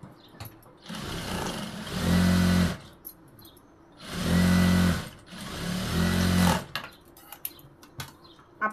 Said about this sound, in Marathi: आता मी याच्यावरतून एक टिप मारून घेते.